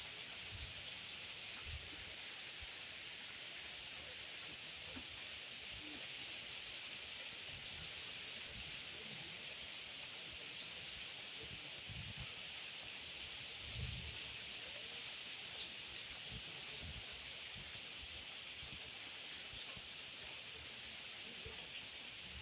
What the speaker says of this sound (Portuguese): Essa chuva veio mais forte ali do nascente.